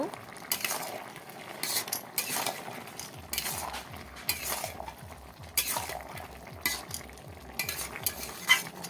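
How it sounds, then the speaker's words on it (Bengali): Fish and bottle gourd are stirred and tossed in a pan over a low sizzle. A utensil scrapes and clinks against the metal in quick, irregular strokes, and a rapid rhythmic scraping runs through the second half. "এবার ভালোভাবে নেড়ে চেড়ে মিশিয়ে নেব"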